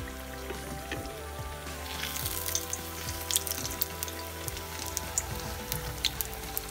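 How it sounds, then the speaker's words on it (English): Beer-battered potato scallops frying in vegetable oil over medium to high heat, giving a steady dense sizzle with crackling pops throughout, close and continuous with no voices. "cook your potato scallops on a medium to high heat in some vegetable oil"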